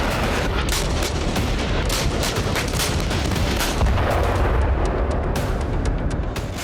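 Iranian military exercise in western Iran's Kermanshah province, with fighter jets and tanks: loud, dense bursts of artillery and gunfire crackle and boom continuously throughout, with no talk.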